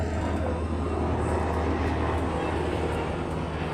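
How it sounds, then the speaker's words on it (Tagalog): An LAPD police helicopter makes a low pass overhead, producing a loud, steady, close roar that fills the entire moment without letting up. "Low pass. Helicopter."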